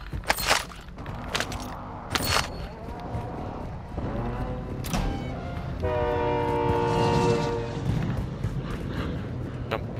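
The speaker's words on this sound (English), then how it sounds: "Jump on the train, innit? Head to the airport." Train in a video game, a rumbling rail passage with horn-like harmonic tones swelling midway, heard amid layered game sounds and scattered thuds.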